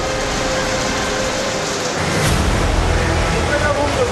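Heavy monsoon rain pours in Mumbai, a loud, dense, continuous wash of rainfall that thickens slightly partway through, with a faint voice under it.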